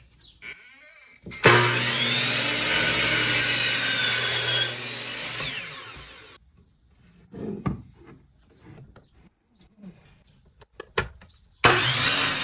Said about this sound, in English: Now I drill that holes.